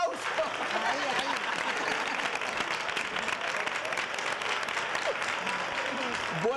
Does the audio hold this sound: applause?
yes